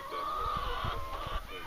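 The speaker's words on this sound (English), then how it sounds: "All of these chickens are girls except that one boy, the rooster" Chickens, hens with a single rooster on a small farm, cluck softly and steadily at close range, with short low bursts of bird noise and no talking.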